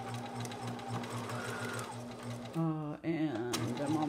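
A sewing machine runs a back-stitched half-inch seam on a pin cushion, a steady close mechanical whir with a pitch change and brief pause near the end.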